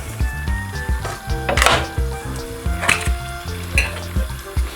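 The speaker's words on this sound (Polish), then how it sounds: "dodajemy dwie łyżki masła i za chwilę na to poleci cebulka na rozgrzany tłuszcz dodajemy cebulkę" Onion tipped into hot melted butter in a pan, a bright sizzling hiss bursting up over steady frying crackle, with stirring clinks and scrapes of a utensil against the pot and background kitchen hum.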